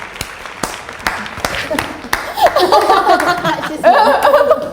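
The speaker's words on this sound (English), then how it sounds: "round of applause" At a family's back-to-school quiz game, a few sharp, scattered claps come first, then louder laughter and chatter from several people take over.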